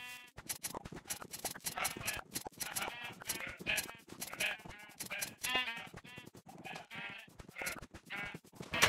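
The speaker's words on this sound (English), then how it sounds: "Hey, purple sheep, orange sheep" Sheep in the video game Minecraft bleat repeatedly in short, wavering calls, one after another at close range, mixed with other quick game sounds.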